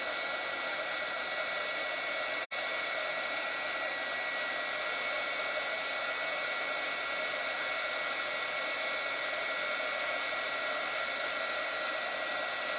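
Heat gun blowing steadily on torch paste applied through a stencil, a constant loud airy roar with one momentary dropout, no speech.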